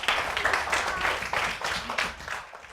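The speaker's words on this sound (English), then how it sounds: "Give him a clap." Children clap in a primary school classroom for a classmate, a small group's uneven, slightly rhythmic clapping, close and moderately loud, tapering off at the end.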